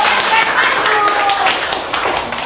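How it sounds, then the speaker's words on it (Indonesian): Children clap their hands together in an elementary school classroom, a dense, steady patter of many overlapping claps that fills the whole stretch and eases off slightly toward the end. "Iya, itu tepuk tepuk tangan."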